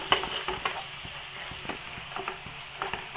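Chicken curry masala with potatoes is stirred in a pan with a spoon, giving soft scraping strokes and intermittent clicks over a low, steady sizzle, fairly close and without talk.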